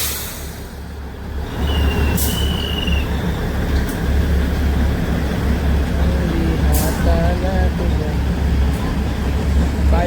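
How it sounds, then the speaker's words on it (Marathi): Matheran hill railway's small toy train pulls away from the station, its low engine rumble and wheel noise steady and close throughout, with brief hisses and squeals and people talking nearby. "हे बघा ट्रेन निघालेली आहे अशा प्रकारे"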